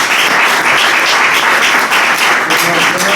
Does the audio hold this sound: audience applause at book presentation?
yes